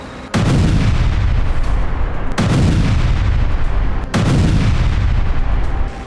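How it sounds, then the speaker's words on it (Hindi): Israeli tanks fire shells at Hamas positions in Gaza: three heavy, loud booms about two seconds apart, each with a long rumbling roar that sustains between blasts, with no voices. "एक के पीछे एक चलते हुए टैंक गाजा की सीमा में दाखिल हुए और हमास के ठिकानों पर जमकर गोले बरसाए।"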